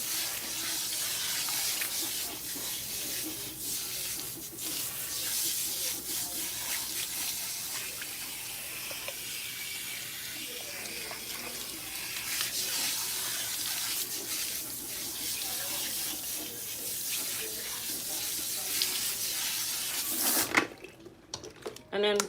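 Water runs steadily from a salon sink faucet as hair is rinsed, a broad continuous hiss and splash lasting throughout, with a louder clattering burst near the end.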